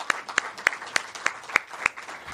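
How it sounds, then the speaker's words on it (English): Applause for Rosemarie after a poetry reading at a birds-and-verse event, heard as a sparse run of about seven distinct claps spaced evenly, fairly faint and with no talk. "can we please have 2 more rounds of applause for Rosemarie?"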